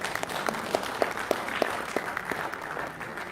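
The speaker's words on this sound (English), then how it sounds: "with a big round of applause" An audience at a sports academy stage event claps to welcome a guest coach, a moderately faint, sustained patter with a few sharper individual claps standing out throughout.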